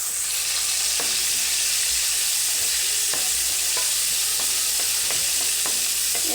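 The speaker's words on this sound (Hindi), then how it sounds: "एक मिनट तक प्याजों को पकाएंगे इसमें" Onions fry in a pan of hot oil for soup, a loud, dense, unbroken sizzle with light scraping taps from stirring scattered across it.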